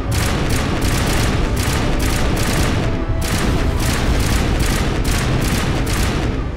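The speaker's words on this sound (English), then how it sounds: "just blow them up with the shotgun" Shotgun blasts from a Mass Effect Legendary Edition firefight against turrets, a dense, loud barrage of heavy booming shots in rapid succession with no pause, continuous gunfire filling the whole stretch.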